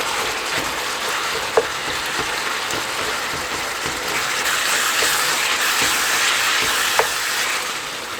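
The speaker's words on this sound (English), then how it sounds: "Now I'm gonna start mixing this stuff up." A seasoned meat mixture for lasagna is stirred in a pan, with a continuous bright sizzle and frying hiss and occasional sharp clicks of a utensil against the pan, close and steady.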